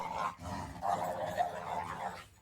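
A dog snarls and growls within a song interlude, a rough, continuous throaty rumble lasting a couple of seconds, moderately loud and mixed with the music.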